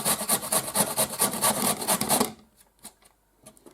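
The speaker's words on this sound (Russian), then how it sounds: "и это, значит, мы натерем на терке" Raw beetroot scraped on a kitchen grater in quick rhythmic rasping strokes, close and loud, then a few scattered softer scrapes and taps as the grating stops.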